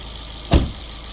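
The engine of a 2012 Fiat 500 hums low and steady at idle, close by. A single dull thump sounds midway through the clip.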